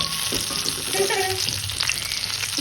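Slices of eggplant fry in hot oil with a dense, continuous crackling sizzle, close and steady, with small pops through the clip.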